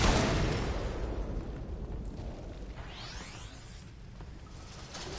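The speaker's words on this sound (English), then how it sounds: "See that? That is explosion." A deep, rumbling blast in the Warframe video game, booming loudly at the start and then fading into a long, noisy decay with a faint whooshing sweep.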